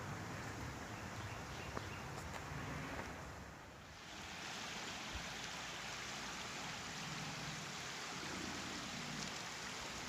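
The East Fork of the Miami River flowing, a steady broad wash of water noise, faint and constant, with no voices.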